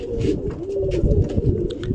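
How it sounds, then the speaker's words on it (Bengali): Black pigeons that have just flown down coo in low, rolling calls, close and steady through the whole stretch with no talk. "দেখো উড়ে এসেছে, উড়ে এসেও ডাকছে।"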